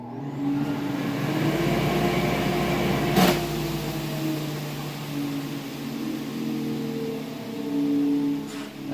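A workshop dust collection system switched on by opening a blast gate hums steadily with a whooshing airflow drone and a faint tonal whine, and one brief sharp clack partway through.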